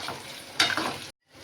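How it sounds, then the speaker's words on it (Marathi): Aluwadi, rolled colocasia leaf slices, frying in hot oil as a second batch, giving a steady close sizzle that surges briefly mid-clip, then cuts to near silence before a faint return. "आता ह्याला मस्त तळून घेऊया."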